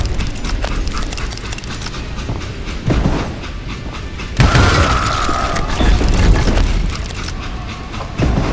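A steam-era train in the Western game Call of Juarez Gunslinger, loud and close with continuous rumbling rattle, clanking metal and intermittent heavier jolts, no speech.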